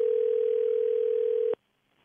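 A steady telephone dial tone hums for about a second and a half while a call is placed, then cuts off abruptly into near silence.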